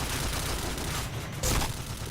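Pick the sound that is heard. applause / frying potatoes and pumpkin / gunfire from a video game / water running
gunfire from a video game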